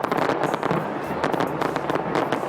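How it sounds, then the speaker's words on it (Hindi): New Year fireworks burst over Auckland's Sky Tower in New Zealand, a dense, continuous stream of loud crackling pops and bangs. "स्काई टावर पर शानदार आतिशबाजी का मुजाहिरा किया गया।"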